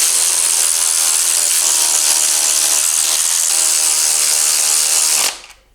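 A power tool runs cylinder head bolts down snug on a Chevy LS3 engine in a Chevy Nova build, a loud steady whirring drone lasting about five seconds before it cuts off.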